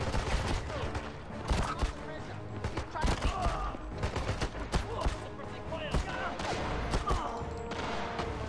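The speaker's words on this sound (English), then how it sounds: "Please stop shooting me." Rapid bursts of gunfire aimed at the player in the 007 Legends: Goldfinger video game, dense overlapping shots that crackle steadily throughout, loud and close, with occasional voices in the mix.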